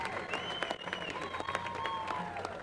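An audience at a Utah Jazz home event applauds steadily, with a dense wash of clapping and faint crowd voices that stays at an even, moderate level throughout.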